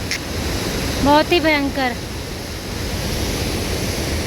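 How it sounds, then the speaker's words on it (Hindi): Fast, heavy runoff on a muddy, rain-soaked mountain trail on the Valley of Flowers trek gives a steady, broad rushing roar, with a person briefly exclaiming over it. "ऊपर से पानी का इतना तेज बहाव"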